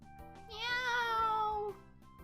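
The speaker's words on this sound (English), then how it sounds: "Meow!" Close, loud cat meow, a single drawn-out rising-then-falling call lasting about a second, heard alone against a quiet indoor background.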